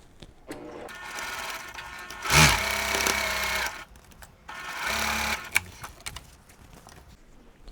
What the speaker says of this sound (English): Again, sewing with a 1/4 inch seam, right sides together.